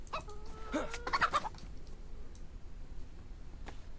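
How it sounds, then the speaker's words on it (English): Chicken in DayZ, on the Chernarus map, giving a short burst of clucks and squawks near the start, faint against a quiet outdoor background. "Hello, little chicken."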